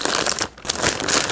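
Plastic lay-flat ducting for a Phoenix DryMAX XL crinkles and rustles as it is fed through a frame, a close, continuous crackle with a brief dip midway.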